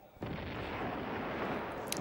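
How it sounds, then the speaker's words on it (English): Heavy explosive booms from grenade launcher rounds striking the dragon boss in Tomb Raider II, forming a sustained loud, rumbling barrage across the whole moment with no speech. "The dragon just doesn't move and you can shoot him with the grenade launcher."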